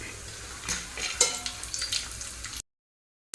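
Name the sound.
cashews and raisins frying and being stirred in a pan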